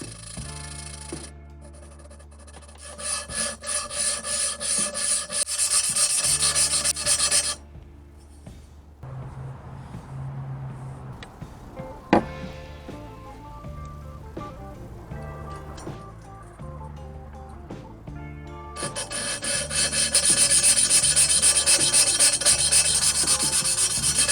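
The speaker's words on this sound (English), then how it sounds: "This grinding compound helps the valves sit straight on the head so that both surfaces are even with each other" Engine valves lapped by hand with grinding compound against aluminum LS1 cylinder heads, a close gritty rubbing in repeated bursts separated by quieter stretches with faint knocks.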